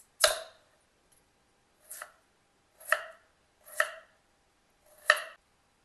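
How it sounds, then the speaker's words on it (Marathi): Peeled potatoes being chopped into small pieces on a board, five sharp knife strikes spaced about a second apart, close and clear against near silence. "बटाट्याला छोटे छोटे कापायचे।"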